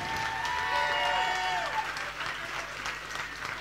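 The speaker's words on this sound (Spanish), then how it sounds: "Otro aplauso, no viene mal a mi hijo." A live concert audience at La Trastienda applauds steadily for the performer's son, a dense wash of clapping that slowly thins, with crowd murmur beneath.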